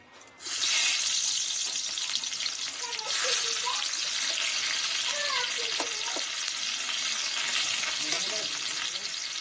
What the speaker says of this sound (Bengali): কড়া করে ভেজে করে এখন পেঁয়াজ দেবো